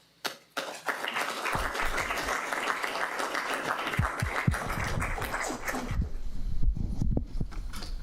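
An audience at a city council meeting breaks into applause, a burst of many hands clapping that holds steady for several seconds, then thins to scattered claps and some voices.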